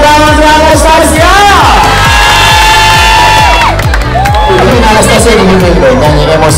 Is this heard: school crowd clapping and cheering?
yes